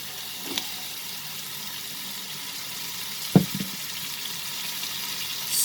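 Tomatoes and spices for a prawn and potato curry fry in a pan, giving a soft steady sizzle with a couple of brief clinks or stirring knocks.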